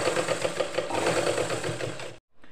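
A sewing machine runs quickly and continuously, stitching along the edges of a blouse being repaired at the shoulder, with a rapid mechanical whirring rhythm up close before it stops abruptly.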